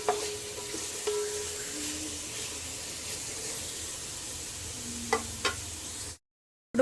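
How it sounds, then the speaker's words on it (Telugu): Mutton biryani ingredients fry in a pot over a medium flame, giving a continuous soft sizzle broken by a few scraping stirs and clinks before the sound cuts off abruptly. "మీడియం లో ఫ్లేమ్ అడ్జస్ట్ చేసుకుంటూ మనం బిర్యానీ కుక్ చేసుకోవాలండి"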